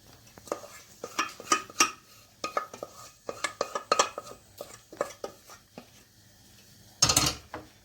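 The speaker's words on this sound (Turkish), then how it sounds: "Şimdi patatesimi içine ilave ediyorum." Potatoes tipped into a pan and stirred for a potato börek filling, giving a run of close scraping and clattering utensil-on-pan knocks with a sharper burst near the end.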